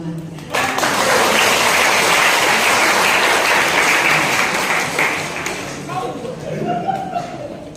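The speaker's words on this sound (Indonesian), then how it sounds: "Tepuk tangan yang lebih meriah lagi untuk Ibu ya." A congregation at a church community anniversary service breaks into loud, dense applause that swells quickly and holds steady for several seconds before tapering off as a voice and other sounds come through.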